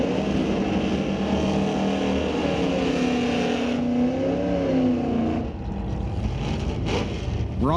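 Drag racing cars, including a Ford Falcon, roar down the strip at Mission Raceway Park, a loud sustained engine howl with rising harmonic sweeps that fades slightly toward the end.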